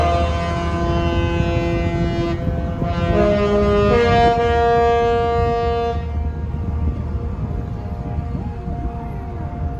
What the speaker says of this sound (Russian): Когда время стоянки туристического лайнера подходит к концу, он издает вот такой интересный звуковой сигнал.